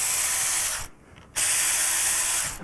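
Two bursts of high-pitched whirring from a power driver backing out Torx 25 screws on a 2023–2024 touring motorcycle hand control, each lasting about a second with a short pause between, close and loud.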